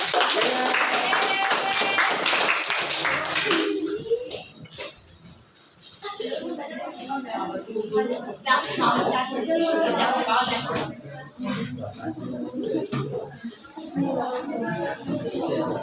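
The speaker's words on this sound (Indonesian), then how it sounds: "Oke, tepuk tangan dulu." A classroom group claps together during a practice teaching session, a dense burst of applause for a few seconds before it gives way to spoken discussion.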